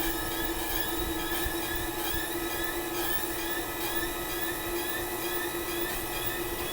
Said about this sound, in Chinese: 因为这个细牙的喷油嘴它喷出来压力比较高，所以说我们听到它出油的声音比较尖。